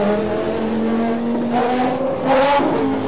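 Revving V10 engine of a Ligier JS35 with a 3.5-litre Renault V10 in a 1992 Formula 1 racing game mod, with steady high whine whose pitch climbs in two surges, loud and close, no talk.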